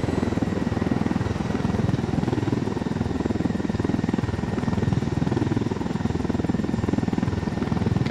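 A Unidad helicopter flies close by in Ghost Recon Wildlands, its rotor throbbing with a steady rapid chop over a dense engine roar, loud and constant throughout, with no talking.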